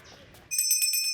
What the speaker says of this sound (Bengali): রিং হচ্ছে, রিং হচ্ছে।